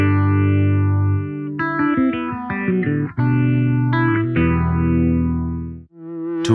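Electric guitar played through a Boss ME-25 multi-effects pedal, sustained chords and quick note runs heavily processed with distortion and chorus, ringing out alone with no talking.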